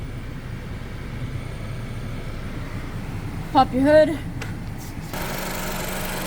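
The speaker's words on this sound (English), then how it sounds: "engine on, AC on full blast" A 2018 Honda Civic hatchback idles with its air conditioning on full blast, a steady low engine hum and fan whoosh running throughout, with someone speaking briefly near the middle.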